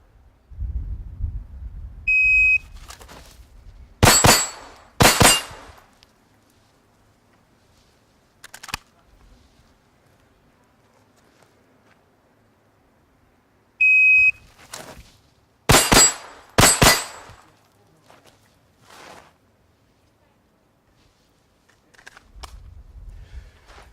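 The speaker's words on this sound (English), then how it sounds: "the impact of the bullets" Steel target plates ring out as bullets strike them: sharp, loud metallic clangs arriving in quick clusters of two or three, with single hits between and quiet gaps separating the groups.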